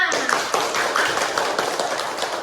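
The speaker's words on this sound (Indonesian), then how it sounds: "beri tepuk tangan untuk kelompok pertama" A classroom of students claps for the first group after a presentation, a short round of fairly loud, uneven hand claps from a small crowd nearby, with some murmuring voices.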